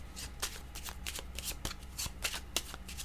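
Tarot cards are shuffled by hand in a quiet room, a quick run of soft papery riffles and slaps close to the listener, with no voice.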